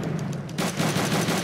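Sustained, dense gunfire from the video game Call of Duty: Roads to Victory during a Rhine crossing battle, a loud, continuous wall of shots and blasts with no pause.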